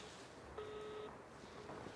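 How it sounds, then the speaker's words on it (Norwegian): A telephone busy signal sounds as a single short, steady electronic tone, faint and alone against a quiet background hiss. "Nå er det opptatt igjen, ja."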